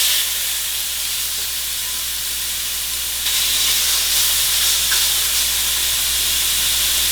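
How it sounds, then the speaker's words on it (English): Shrimp dropped into a hot pan with onions, a steady loud sizzle and hiss that swells a little louder partway through and holds, with no talking. "we'll go ahead and we'll put our shrimp in now"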